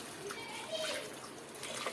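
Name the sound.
water poured into pressure cooker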